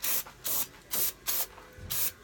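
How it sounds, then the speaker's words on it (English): Brake cleaner sprayed onto engine parts of a Honda GX390 460 stroker being cleaned before final assembly, heard as five loud, hissing aerosol bursts in a steady rhythm, each about a quarter second long, close to the microphone with no talking. "brake cleaner."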